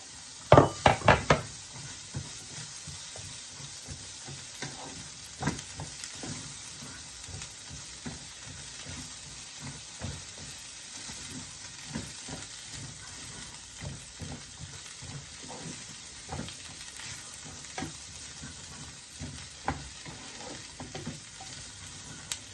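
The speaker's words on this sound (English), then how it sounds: "I will just leave that to fry off for a few minutes until the onion has gone translucent" Red and white onion with sweet potato frying in a pan, a steady close sizzle with occasional stirring clatters and knocks, no voices.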